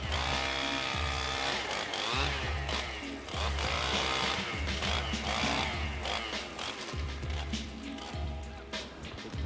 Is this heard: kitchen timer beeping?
no